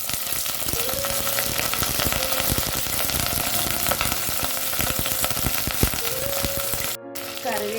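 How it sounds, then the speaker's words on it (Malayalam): Mustard seeds and curry leaves fry in hot coconut oil for a Kerala-style meal. A loud, steady sizzle with dense crackling and popping runs throughout, cut by a brief pause near the end before the sizzle resumes. "കറിവേപ്പിലയും കടുകും ഒക്കെ മൂത്ത് വന്നിട്ടുണ്ട്."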